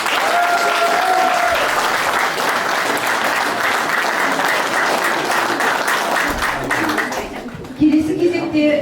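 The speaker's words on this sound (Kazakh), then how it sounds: "ұстаздарға арналған ыстық ықыласымызды қол шапалақпен білдірейік" A village audience applauds teachers at a 1989 graduates' reunion, steady dense clapping from a crowd that tapers off near the end, with a voice speaking over it at the start and finish.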